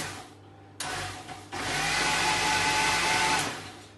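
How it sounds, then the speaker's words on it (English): Blender whirring as it mixes flapjack ingredients at moderate power, a short burst followed by a steady, loud, sustained run that eases off at the end. "All the ingredients are now in the blender"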